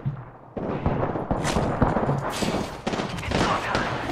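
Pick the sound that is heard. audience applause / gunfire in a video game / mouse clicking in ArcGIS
gunfire in a video game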